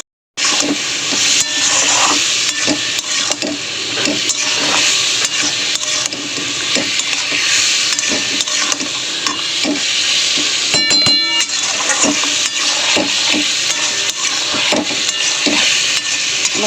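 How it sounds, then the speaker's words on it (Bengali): A spice masala of chili powder, turmeric and salt sautés in a pan with a splash of water, making a loud, steady hiss and sizzle, broken by repeated scraping and tapping from stirring. "একটু জল দিয়ে মশলাটা কষাবো।"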